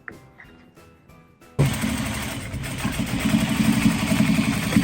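A sewing machine used for mending a rug starts up after a few quiet seconds of handling and then runs steadily, loud and near, with a rapid mechanical hum.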